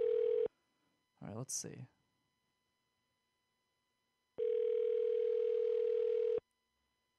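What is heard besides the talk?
telephone ringing on an outgoing call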